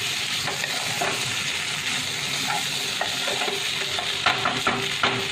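Achari aloo, pickle-spiced potatoes, stirred in a hot pan under a steady loud sizzle, with soft scrapes and light clinks of the spoon against the pan throughout.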